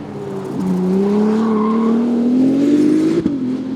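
A Ferrari 296 GTB Speciale's turbocharged engine pulls hard and loud, its pitch climbing steadily before a sharp dual-clutch gearshift cut near the end, then droning on at a lower note.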